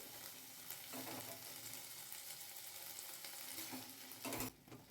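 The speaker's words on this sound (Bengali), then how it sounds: "কড়াইতে সর্ষের তেল দিয়ে কালো জিরে ফোড়ন দিয়েছি ফোড়নটা ভাজা হলে দিয়ে দেব বিনসগুলো" Continuous hiss and crackle of green beans frying in hot mustard oil with black cumin, with a few stirring scrapes and a brief louder clatter near the end.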